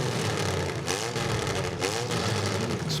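At a demolition derby mini heat, a car engine revs loudly and roughly in repeated surges, heard from a distance amid crowd and arena noise.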